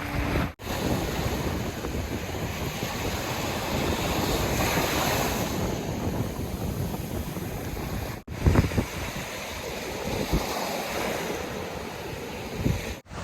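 Surf rolls onto a deserted white-sand Florida beach on the Gulf of Mexico at Gulf Islands National Seashore, a continuous washing roar with buffeting wind against the microphone and a couple of brief dropouts.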